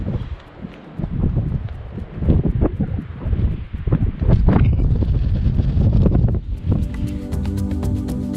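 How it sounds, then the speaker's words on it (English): Strong gusty wind buffets the microphone with rough, rumbling roar and rustling, steady and loud, with a faint tonal sound near the end. "It's also pretty windy"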